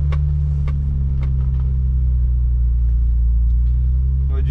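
A BMW E30 engine running on ethanol, not yet fully warmed up, idles with a steady, loud low rumble and faint ticking transients on top.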